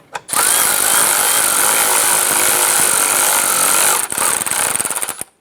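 A power tool runs in one long, loud, steady burst while snugging headlight mounting bracket bolts on a 2011–2018 Ram 1500, cutting off briefly near the end before a short final run.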